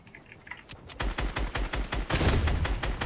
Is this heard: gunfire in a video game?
yes